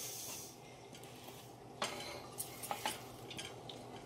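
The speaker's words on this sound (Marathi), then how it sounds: "सारखं हलवतच राहायचं" Jaggery amla murabba being stirred in a large kadhai, with soft hissing under a series of light metallic scrapes and taps from the spoon against the pan, quiet and close with no talking.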